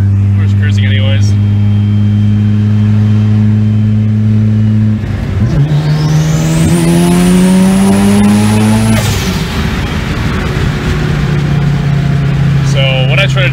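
A Mazda FD RX-7 rotary engine tuned on a Haltech Elite ECU accelerates hard under boost. The steady drone climbs in a sweeping rev rise with a rising whine, then eases back to cruise. A voice talks over the start.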